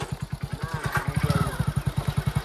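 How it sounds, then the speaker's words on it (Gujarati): A Hero HF Deluxe motorcycle idles close by with a steady, rapid single-cylinder thump that rises briefly mid-clip, while a voice speaks faintly in the background. "બાઇક લઈને આવ્યા છે એચ એફ ડિલક્સ"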